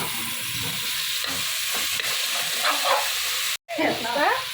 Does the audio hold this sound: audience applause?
no